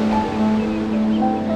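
A river in the North Cascades rushes steadily about 60 feet straight down below a hiking trail, still running hard in late summer. It makes a constant, distant, even roar with no voices.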